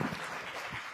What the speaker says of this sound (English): Round of applause for Jay.